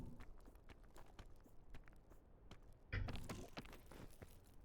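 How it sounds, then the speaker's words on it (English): Footsteps of a character climbing in the video game PEAK, a quiet, steady series of soft steps with a slightly louder scuffle partway through, heard alone without talk. "It feels weird that like the only sound in the game right now really is footsteps."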